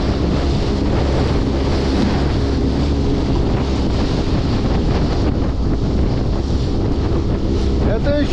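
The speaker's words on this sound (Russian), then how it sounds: "как Урал-то ведет себя в большую волну" A Ural boat pushing through big waves on open water, with constant loud wind roar buffeting the microphone, rushing water and hull slap filling the whole stretch without a break.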